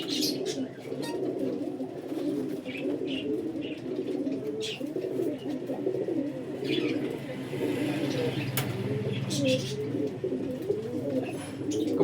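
Desi golden pigeons coo continuously in soft, overlapping rolling calls, with occasional chirps and a brief wing flutter, held at a steady moderate level throughout.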